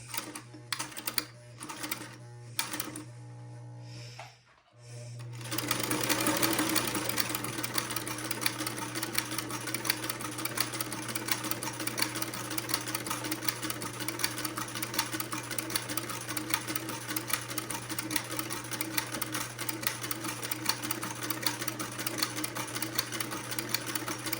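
Sewing machine stitching a keyhole buttonhole on a French Acadian sundress: after a few stop-start bursts, a steady, fast mechanical needle rhythm with a constant motor hum runs on at moderate volume.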